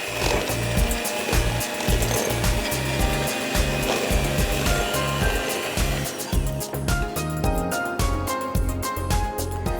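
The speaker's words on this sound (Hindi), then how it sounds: "नाउ हम इसको मिक्स कर देते हैं। डो आपका क्रम्बली होगा।" Crumbly dough for ginger-topped fingers being mixed, a loud, steady churning and grinding with a rapid rhythmic thumping pulse that runs the whole time, with no voices.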